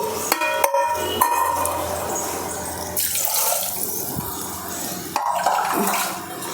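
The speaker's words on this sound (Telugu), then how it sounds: "కొంచెం వాటర్ పోసుకుందామండి." Water poured from a glass into a pressure cooker pot holding goat trotters, a steady splashing pour with a few clinks of the vessel, close and fairly loud in a home kitchen.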